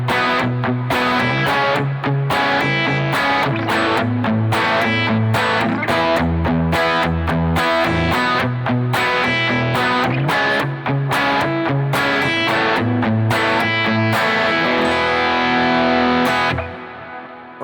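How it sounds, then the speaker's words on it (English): Electric guitar strummed in a palm-muted eighth-note pattern on pedal tones with distorted tone and punchy accents placed through the phrase, loud and close, playing alone for about seventeen seconds before ringing out. "that's like an eighth note pattern with palm muted pedal tones together with some carefully placed accents"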